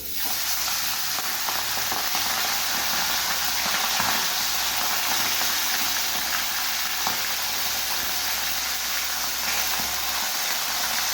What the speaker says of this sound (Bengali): তেলটা আমার গরম হয়ে গেছে, মাছটা আমি দিয়ে দিচ্ছি।